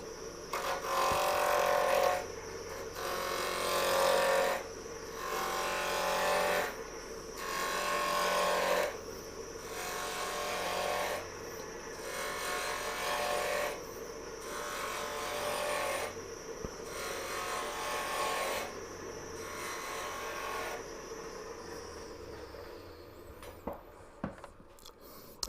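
A wood lathe spins a small segmented bottle stopper at high speed, giving a soft steady whir with a rhythmic pulsing pattern that repeats many times before it winds down to light clicks.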